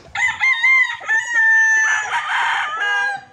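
A Tornado Hatch gamefowl rooster crows loud and close, one long drawn-out crow with a rising start and a ragged tail, heard alone with no talking.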